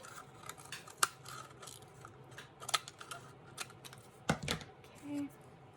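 Scissors trim a paper cutout for a 3D standing unicorn craft with a series of crisp, close snips spread irregularly over several seconds amid quiet room noise.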